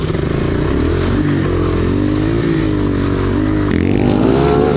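A cheap 250cc five-speed engine on a go kart roars steadily and close, its pitch climbing as it accelerates, with a gear change near the end bringing a brighter, harsher tone.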